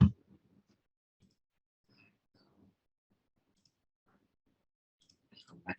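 Computer mouse clicking while working in statistics software, a few sharp clicks near the start and a quick cluster at the end, separated by near silence and faint room sound.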